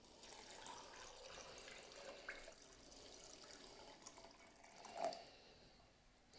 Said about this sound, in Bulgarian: Сега пълня вода.